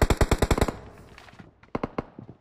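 Rapid automatic fire from an M762 rifle in a video game: a burst of about eight sharp, loud shots in quick rhythm, then a quieter stretch and a few more spaced shots.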